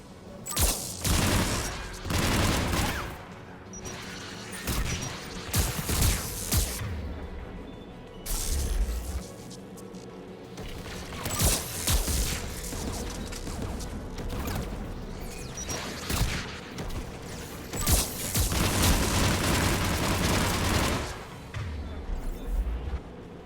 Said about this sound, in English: AA guns, dead ahead.